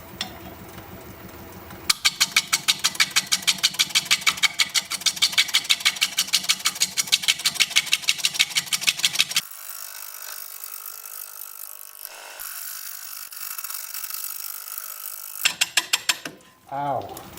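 A wood lathe spins a cherry burl while a chisel cuts into it, giving a fast, steady rhythmic chatter of repeated ticks over a constant mechanical hum, close and loud, followed by a smoother hum with brief pauses.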